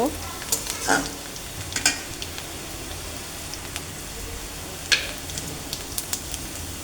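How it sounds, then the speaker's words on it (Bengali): Chopped onion frying in oil for a dal tempering with cumin, a close, lively sizzle broken by crackling spatters and stirring scrapes at irregular intervals, with no talking. "ডালটা তেলে দেবো আর এখানে কিছু জিরা নিয়েছি পেঁয়াজটা ভাজা ভাজা হয়ে গেলে জিরাটা দিয়ে দেব"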